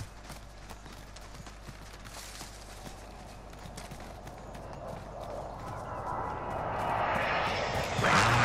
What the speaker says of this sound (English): See that chopper?